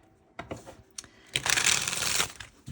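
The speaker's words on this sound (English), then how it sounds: "So first time I'm going to shuffle it now." A deck of tarot cards is shuffled close by, a few brief riffles followed by a longer, crisp riffle-and-bridge burst, with no voices.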